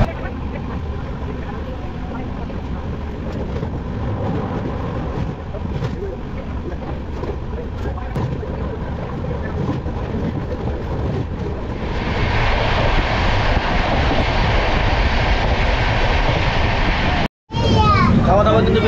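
Duronto Express train crossing the Rupnarayan river, a loud steady rumble and roar of wheels and carriages that grows harsher and brighter midway across, with a brief break near the end.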